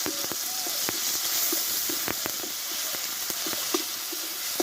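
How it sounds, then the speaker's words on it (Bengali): Ginger and tomato sautéing in a pan, a soft steady sizzle broken by sharp clicks of a spatula stirring, close and fairly quiet, no voices. "আদা টমেটোটা আমি ভালোভাবে কষে নিয়েছি"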